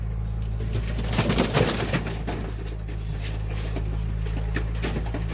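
Pigeons coo softly under a constant low hum, with a brief burst of fluttering or patter in the middle and scattered light clicks, all fairly close.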